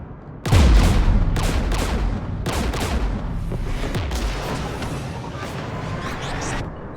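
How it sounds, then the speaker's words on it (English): Gunfire in Mass Effect Legendary Edition: a sudden loud booming volley followed by repeated bursts of overlapping shots and blasts, a continuous heavy barrage with rumbling low end. "We're taking fire."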